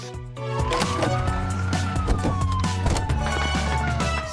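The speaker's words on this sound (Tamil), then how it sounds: "போலீஸ் கார்கள் மின்னும் விளக்குகளும் பேரிரைச்சலான சைரன்களும் கொண்டவை." A police siren wails, rising and falling steadily over a dense, loud layer of background noise and music-like tones, continuous throughout.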